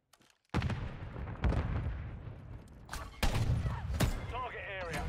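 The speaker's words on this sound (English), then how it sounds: "My teammate is going off with that sniper rifle." Sniper rifle gunfire in the shooter game Modern Warfare 3: loud, sharp shots ring out at irregular intervals over constant battle noise, with game voice chatter and radio-style announcements mixed in.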